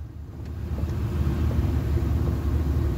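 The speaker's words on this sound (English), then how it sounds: "1, 2, 3 cars running red lights" Cars rumble through a city intersection as several run a red light: a low, rising traffic roar that swells and holds, moderately close, with no talk over it.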